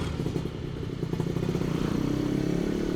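An older Suzuki Satria two-stroke motorcycle revs close by on a street at night, a raspy, buzzing engine note that holds steady and then climbs in pitch.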